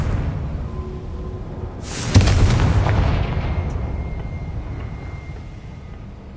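In Hogwarts Legacy, a Confringo spell sets off a single loud explosion that bursts out suddenly and then rumbles away slowly over several seconds, with no talk.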